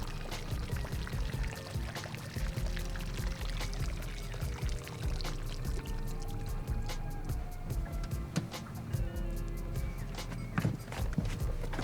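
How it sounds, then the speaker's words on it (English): A person urinates outdoors on a fishing trip, a thin steady trickling pour heard fairly close and quiet against a low background rumble, with scattered small knocks and no talking. "Taking a leak."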